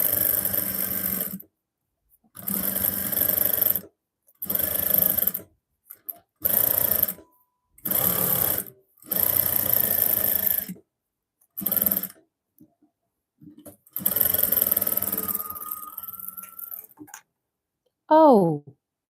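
Home sewing machine running in several short bursts of stitching, each a steady whir lasting one to two seconds with pauses between, then a longer run; a brief voice-like chirp at the end.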